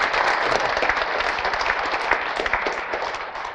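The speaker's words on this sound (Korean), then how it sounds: "여러분 스스로를 위해서 박수 한번 치도록 하겠습니다" An audience at a company presentation applauds, steady dense clapping from a crowd lasting the whole few seconds, fairly loud and without talking.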